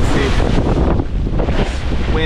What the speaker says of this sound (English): wind against waves